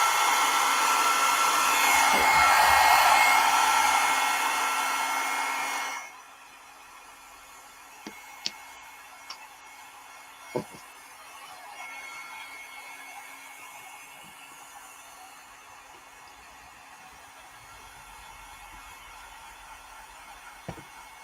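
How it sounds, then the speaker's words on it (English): Hand-held dryer blowing air to dry an art stencil, a loud steady whooshing roar for about six seconds that cuts off abruptly, followed by quiet room tone with a few small taps and clicks. "I'm gonna use my dryer here for a sec."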